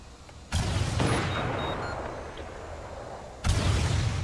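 A grenade goes off in a video game: a loud, close broadband blast with a long rumbling tail, followed a few seconds later by a second sharp explosion.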